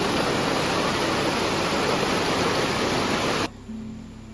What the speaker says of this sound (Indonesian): Hujan dan sungai menyatu, seolah alam sedang menyempurnakan kisah hari ini.